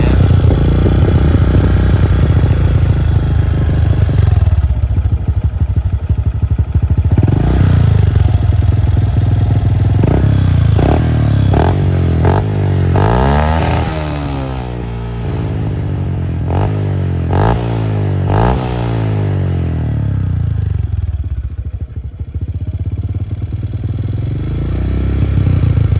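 A modified Honda Supra X 125 motorcycle engine idling loudly with a rough, throaty rumble, punctuated by several sharp revs that rise and fall.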